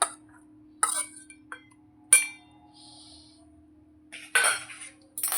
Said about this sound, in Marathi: हे टोमॅटो तेजी साल काढून झालेले हे मिक्सरच्या भांड्यामध्ये घालूया